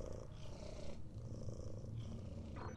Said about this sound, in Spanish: Gente, os puedo enseñar el gatito